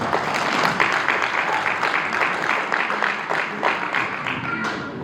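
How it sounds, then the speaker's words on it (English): A crowd applauds steadily, a dense patter of many hands clapping that holds evenly for several seconds before easing slightly. "Give yourself a round of applause."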